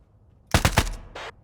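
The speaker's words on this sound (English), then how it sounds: "They're shooting at me. Taking fire!" Gunfire in the video game Thunder Tier One: a quick burst of three or four loud, sharp rifle shots in rapid succession, followed after a short gap by one more distinct crack.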